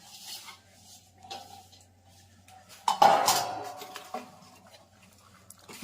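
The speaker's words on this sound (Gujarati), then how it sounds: "અને આ બદામ અને આ ટોપરું મિક્સ કરવાનું." Almonds and dried coconut being mixed for gund pak in a metal pan, with a few scraping clinks and a louder clatter of spoon against pan near the middle, otherwise quiet.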